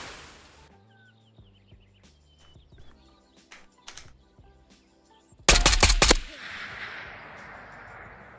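Gunfire in the video game Ghosts of Tabor: after quiet clicks and soft game tones, a loud rapid burst of several shots erupts and then fades into a long echoing tail.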